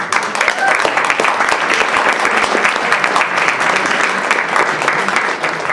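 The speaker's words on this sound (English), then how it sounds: "please give a warm applause to Eric Rosenbusch" A seated audience gives a warm round of applause for an introduced speaker, loud continuous clapping with crisp individual claps that holds steady for several seconds.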